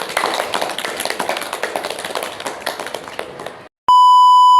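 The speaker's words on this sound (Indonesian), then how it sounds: "Nah, tepuk tangan untuk kita semua" Several people clap together in a steady patter for a few seconds. The clapping stops abruptly and a loud, pure electronic beep follows.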